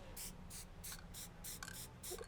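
A spray paint can used for urban art lets out short, regular hissing bursts, about seven even puffs in a row at moderate volume.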